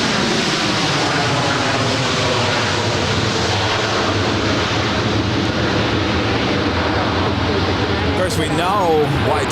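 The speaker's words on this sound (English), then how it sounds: "This next arrival is Delta 1659 coming in from Las Vegas. It's a 5-year-old 737-900 ER." A 5-year-old Delta Boeing 737-900ER arriving at Los Angeles LAX from Las Vegas makes a loud, steady jet roar that fills the scene, with a short tonal whine from a radio voice near the end.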